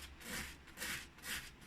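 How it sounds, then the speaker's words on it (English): Sandpaper rubbing down a layered wooden frame in three slow, even back-and-forth strokes, fairly quiet and close with no voices. "So you've got to watch how close you sand it down."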